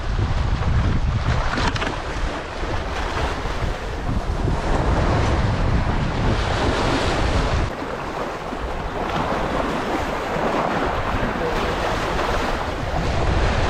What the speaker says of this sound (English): And the wind's getting stronger